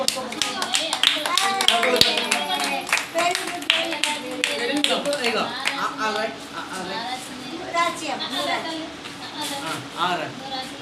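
A church congregation claps hands for the Lord, steady rhythmic clapping from many people mixed with loud speech and voices throughout.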